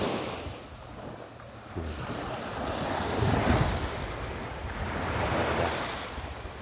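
Ocean waves on a Bahamas beach during a morning walk, a continuous wash of surf that swells and recedes, with wind buffeting the microphone throughout.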